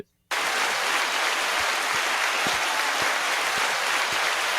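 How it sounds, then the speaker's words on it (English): An applause sound effect triggered from a button, a dense steady crowd clapping that starts abruptly after a brief silence and holds at full level throughout, with no talking. "If I had an audio button to clap, I would."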